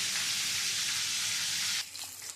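Bhola fish fries in hot oil with a loud, dense, even sizzle that drops off abruptly near the end, leaving a quieter crackle.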